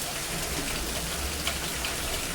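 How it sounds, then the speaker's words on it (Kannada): Steady rain pours down in a dense, even hiss of drops hitting surfaces, with no voices. "ಮಳೆ ಮಳೆ ಮಳೆ ಮಳೆ ಒಲವಿನ ಸಿರಿ ಮಳೆ"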